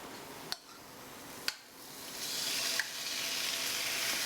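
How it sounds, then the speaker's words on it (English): Beef and garlic go into a hot pan for Vietnamese shaken beef. Two sharp clicks come first, then a soft sizzle swells and keeps going. "But let's go ahead and add a little bit of garlic. Add our beef."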